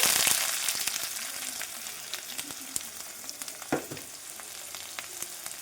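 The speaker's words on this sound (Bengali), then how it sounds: "কড়াতে তেল দিয়ে দিয়েছি ফোড়নে দিয়ে দেবো জিরে পেঁয়াজ কুচি" Cumin seeds and chopped onion fry in hot oil in a wok, a bright crackling sizzle that is loudest at the start and settles, with scattered stirring taps and scrapes.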